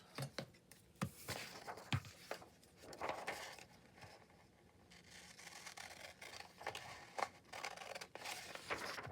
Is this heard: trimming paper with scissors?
yes